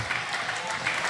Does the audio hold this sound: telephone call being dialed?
no